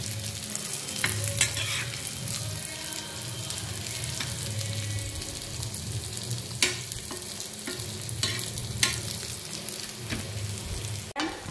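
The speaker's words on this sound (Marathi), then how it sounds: "आलूवड्या मस्त खरपूस अशा तळून झालेल्या आहेत." Aloo vadi frying in hot oil until crisp, a steady soft sizzle and bubbling with occasional clicks and scrapes of a utensil turning the pieces, close and moderately quiet, with no talking.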